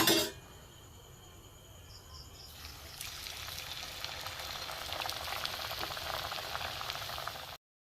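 Jackfruit kachori, made with semolina, flattened rice and flour dough, deep-frying in hot oil, a steady close hiss of bubbling that swells after a couple of seconds and holds without speech.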